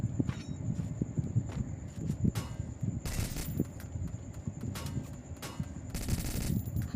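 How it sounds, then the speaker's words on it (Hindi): Heavy gunfire in a battle royale video game, with dense bursts of automatic weapon fire sounding repeatedly through the clip, including loud rapid volleys around the middle and near the end, over steady game ambience and no talking. "तो अब देखना कितना हैवी फायर आता है सामने से।"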